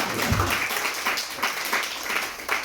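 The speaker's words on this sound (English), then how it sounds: "Can we get a round of applause for that comedic premise?" Comedy club audience bursts into applause, a dense, continuous crowd clapping with slight swells, filling the room at moderate loudness.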